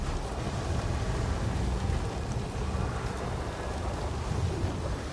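Steady heavy rain pours without pause in a dark stormy setting in Star Wars Jedi: Survivor, with a low rumble of thunder rolling underneath throughout and no clear distinct crack.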